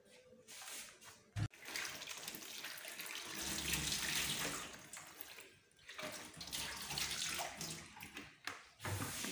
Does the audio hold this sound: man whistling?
no